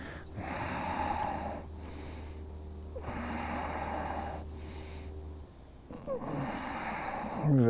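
Heavy, rhythmic breaths during a yoga stretch in a class for runners, several long drawn inhales and exhales repeating at a steady pace, close and fairly loud.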